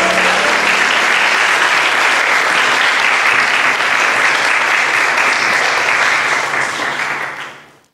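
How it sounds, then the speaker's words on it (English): An audience of children and young people applauds the First Minister of Scotland at a Q&A event, dense sustained clapping filling the room for several seconds before fading out at the end. "Big round of applause for the First Minister."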